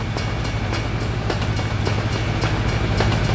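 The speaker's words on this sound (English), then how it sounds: "And there's a train somewhere." Train rolling past a truck rest area in American Truck Simulator, a steady loud rumble with rhythmic clickety-clack of wheels over rail joints, continuous and fairly close.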